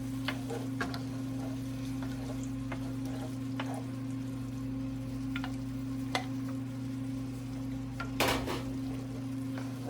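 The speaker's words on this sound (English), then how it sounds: "I'm going to stir the milk in." Milk and cooked potatoes stirred into a pot on the stove, a spoon scraping and knocking against the pot over a low, steady cooking hum, with a sharper clatter near the end and no talk.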